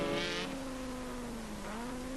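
Racing saloon cars accelerate hard out of a wet chicane at Thruxton in the 1991 Firestone series, with wheels spinning. Engine notes rise and fall as the cars power through, a rough roar passing close with a hiss of spray from the tyres.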